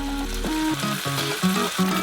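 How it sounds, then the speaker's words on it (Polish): Ready-made bolognese sauce from a jar goes into a hot frying pan with browning ingredients, giving a steady sizzle and bubbling frying noise, close and fairly loud, with faint tonal sounds over it. "otwieramy gotowy już sos bolognese i na patelnię wlewamy cały słoik sosu"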